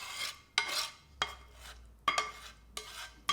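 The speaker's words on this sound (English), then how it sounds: "it's just a case of getting our lovely delicious filling here into our waiting pie crust" Beef and Guinness pie filling spooned into a waiting pie crust, heard as four or five close, sharp scrapes and clinks of a spoon against the dish at a steady rhythm, with soft wet shuffling between them.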